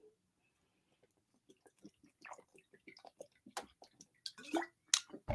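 Someone drinks water close by: soft wet sips and gulping clicks in a quiet room, growing denser and louder toward the end, with no talking.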